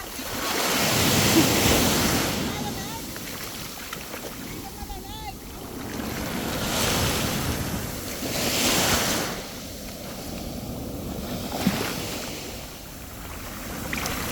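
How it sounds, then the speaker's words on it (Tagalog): Large waves surge and break in repeated swells at a natural beach in Mataró, outside Barcelona, Spain, with wind buffeting the microphone and people talking faintly at times. "Malalaking alon, malalim."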